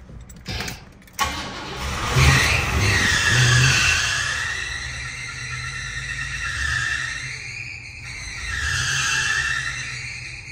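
A 1989 Cadillac Brougham engine turns over and catches, then runs roughly with two surging revs, loud and close with a low rumble throughout.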